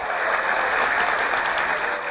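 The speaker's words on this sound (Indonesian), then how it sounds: "tepuk tangan dulu untuk Marco, kakak saya" A hall audience at a campus talk-show taping applauds for Marco, a dense, continuous wash of many clapping hands, steady and fairly loud throughout with no talk.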